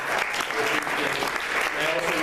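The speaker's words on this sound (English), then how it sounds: "So let's just give her a round of applause." Steady, dense applause from a synagogue audience, loud and continuous for about two seconds, with murmured voices mixed in.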